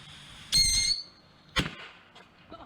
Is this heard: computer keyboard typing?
no